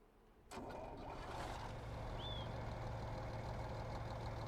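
A truck engine in a Farming Simulator 25 video game cranks and catches after a brief pause, then settles into a steady, rumbling idle that continues without talk.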